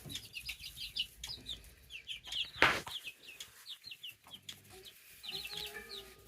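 Young chicks, small black ones and a pair of buff-coloured ones, cluck and peep in a farm pen, a busy scatter of short high chirps with one louder squawk partway through.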